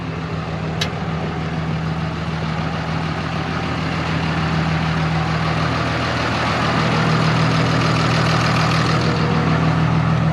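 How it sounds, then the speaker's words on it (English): A jump-started vehicle engine idles at a car-hauling job, a steady low, droning hum held for ten seconds with a brief click near the start, loud and close. "Got it running with a jump box and jumper cables."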